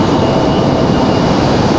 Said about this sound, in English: Touch and goes right now.